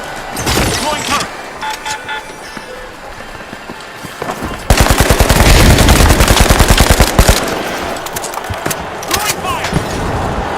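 Rapid bursts of automatic turret fire in a competitive video game match, loud and close, with a sudden sustained barrage midway and scattered shots before and after, under brief announcer-style talk.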